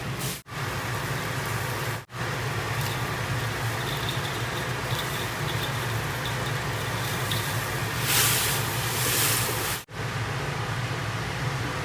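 Hand-made and dried noodles boil in a pot of water on the stove, giving a steady, even hissing and bubbling roar that continues unbroken, close and fairly loud, with no voices.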